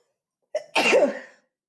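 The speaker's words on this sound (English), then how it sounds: "I'm about to sneeze, I think." A single sneeze with a short sharp intake of breath followed by a loud explosive burst, close up and alone.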